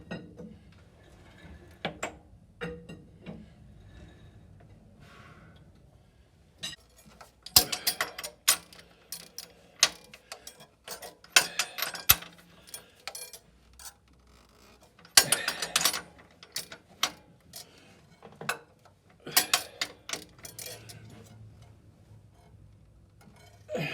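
A torque wrench ratchets on the crankshaft of a Cat 60 engine during a front main bearing install, giving rapid clicking bursts in several runs between quiet pauses, close and crisp.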